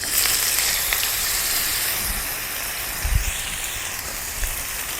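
Paneer cubes dusted with turmeric fry in hot oil with a steady, broad sizzle and hiss that holds throughout, with a few louder pops and crackles near the middle, close and continuous.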